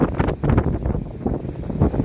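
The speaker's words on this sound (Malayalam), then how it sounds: "നല്ല കാറ്റുണ്ട്" Steady, rough wind on a seashore buffeting a microphone, a low rumbling roar that swells and dips throughout with no clear voices.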